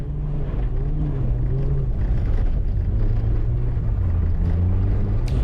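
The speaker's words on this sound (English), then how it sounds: "you can hear the car load up and just not want to go forward" Rallycross car bogging down through a dirt corner at a winter event, its engine a loud, steady low drone that labours and holds pitch without pulling forward, filling the whole stretch with no talk over it.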